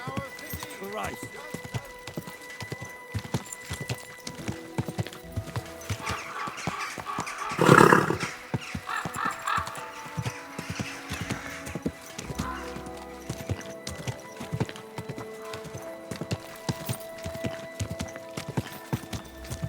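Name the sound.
horse hooves and neighing in video game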